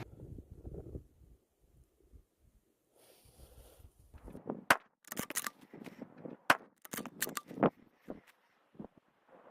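Several sharp rifle shots from a PRS rifle on a range, spaced irregularly and fairly loud, with low wind noise and handling sounds between them.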